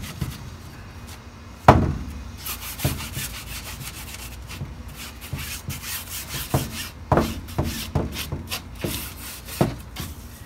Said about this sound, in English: we'll see what it looks like to do a scrape painting with the scrubber side of the sponge